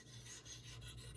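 Steady rasping strokes of a Magnus single-bevel broadhead sawed back and forth on a ceramic sharpener, light even pressure, close and continuous.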